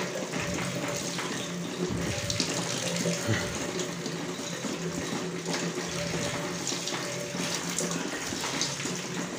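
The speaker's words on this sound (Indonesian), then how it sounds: "Langsung kita bilas dengan air untuk membuang sisa larutan asam kloridanya" Water from a running stream rinsing hydrochloric acid residue and rust scale out of a steel tank, a steady, loud, continuous splashing and hissing gush that stays constant throughout, with no voices.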